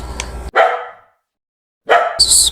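A dog barks close by in short sharp bursts, two loud barks split by a sudden moment of silence, then more barking and yipping at the end.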